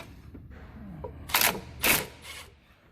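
An impact gun with a 15mm socket backs a bolt out beside the alternator of a C5 Corvette engine, giving three short, close rattling bursts in quick succession.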